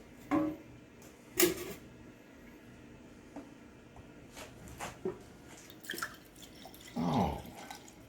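Iced tea pouring into a drink, a faint liquid trickle with scattered drips and a short louder splash near the end, heard alone in a quiet room.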